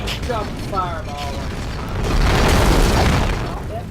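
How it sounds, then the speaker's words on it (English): A fireball dropped in a Spyro the Dragon game gives a swelling whooshing burst midway, following mechanical clicks and pops, while someone talks over the game sound. "Drop a fireball."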